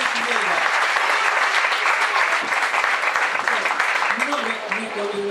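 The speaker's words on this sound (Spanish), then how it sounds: "El aplauso fuerte." Loud audience applause fills a hall at the opening of an event, sustained clapping with some voices and a tonal sound rising under it near the end.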